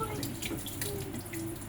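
Tap water runs steadily into a sink while someone wets their hair, a soft continuous splashing with small drips close by and quiet movement around it.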